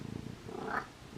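Taco the cat meowing at close range, a drawn-out vocal call rising briefly in pitch, heard alone without any talking.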